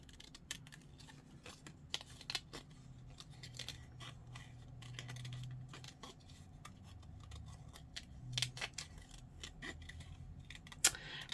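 Scissors snipping paper for a handmade botanical journal, a series of crisp, close, irregular cuts with quiet handling rustles in between.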